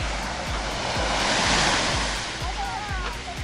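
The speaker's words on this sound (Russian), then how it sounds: "Море сегодня классное такое. С волнами небольшими" Small sea waves break on a beach in Turkey, a broad surf wash that swells and recedes with steady wind noise on the microphone.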